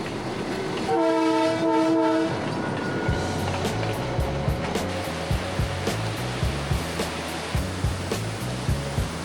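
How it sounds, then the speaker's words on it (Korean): A train horn sounds in loud sustained blasts on a forest trail route toward Machu Picchu in Peru, followed by the rumbling, rhythmic clatter of rail cars passing close by. "기차 오는 것 같은데?"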